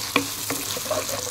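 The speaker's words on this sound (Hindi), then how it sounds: "साथ में इसमें ये कटे हुए प्याज डाल दूंगी। प्याज को गोल्डन ब्राउन करना है हमें।" Chopped onions frying with cumin seeds in a pan, browning for a paneer butter masala; a soft continuous sizzle with a few sharp clicks and light stirring taps, close and fairly quiet.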